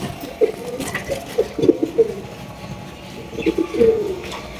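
A pair of high-quality racer pigeons coo softly and close by, repeating low throaty calls in short irregular bursts over a quiet background.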